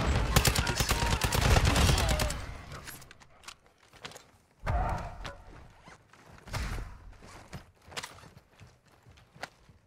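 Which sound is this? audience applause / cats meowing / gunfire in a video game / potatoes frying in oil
gunfire in a video game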